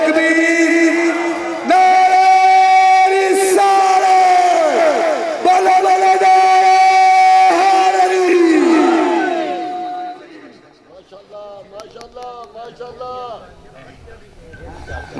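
Large gathering at an Urs religious event, with a leader calling out and a crowd answering the Nara-e-Takbeer slogan in loud, voiced chant bursts over a continuous hum of voices, fading down toward the end.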